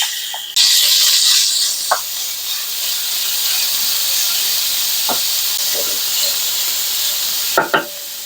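A second batch of ground beef hits a hot pan for a tater tot hotdish and sizzles in a loud, steady hiss throughout, broken by a few brief clinks and scrapes, with no talking.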